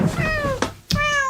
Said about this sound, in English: the cat's making lots of noise